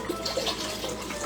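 Low sodium chicken broth pours from a container into a pot, a short continuous splashing gurgle of liquid, close and moderately loud.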